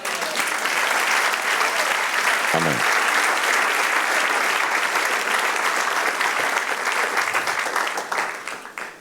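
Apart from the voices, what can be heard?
congregation applauding in church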